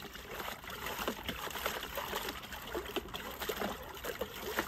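A dog named Chester splashes in a horse's water bucket, giving steady close sloshing and trickling of water in irregular bursts with no pauses.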